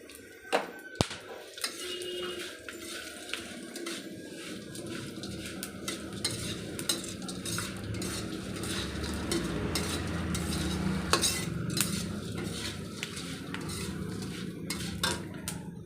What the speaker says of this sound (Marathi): आता यातच मी या ठिकाणी जावित्री रामपत्री मेथी आणि हिरवी विलायची तळून घेतो आहे